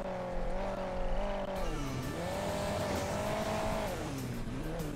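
A buggy revs through its gears in Hill Climb Racing 2, the engine tone climbing, dipping and climbing again in a steady loud drone, with no talking.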